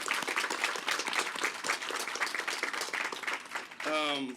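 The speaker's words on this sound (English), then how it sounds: "So give them a big round of applause for being here." Audience at a health clinic grand opening applauds, a dense, steady burst of clapping from a group filling several seconds, ending as a voice begins speaking over the tail.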